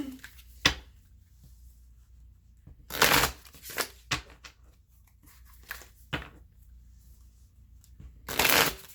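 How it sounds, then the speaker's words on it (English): Osho Zen Tarot cards shuffled in quick bursts, with several loud riffling flurries and softer taps between, close by and with no talking. "I'm going to use the Osho Zen Tarot cards to open up your tarot reading today."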